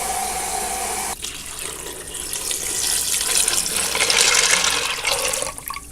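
Water from a tap pours into an Instant Pot over lunch noodles, a loud steady gushing stream that starts abruptly after a moment and swells in volume before tapering near the end.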